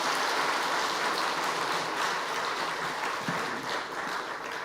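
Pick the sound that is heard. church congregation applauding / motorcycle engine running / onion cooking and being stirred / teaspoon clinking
church congregation applauding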